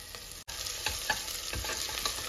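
Ingredients for paaya soup frying and being stirred in a pan, a steady close sizzle with periodic scraping strokes from the stirring, no voices over it.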